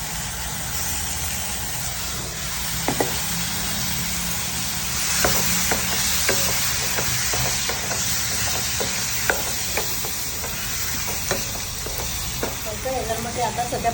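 Spice paste for a Goan dry fish amsol sizzles and fries steadily in a hot pan, a continuous bright hiss with scattered pops and crackles and occasional stirring scrapes, close and fairly loud with no talking.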